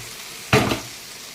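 Fried cauliflower and potatoes drop into a hot frying pan with turmeric and salt, letting out a sudden loud sizzle that quickly settles into a softer frying hiss.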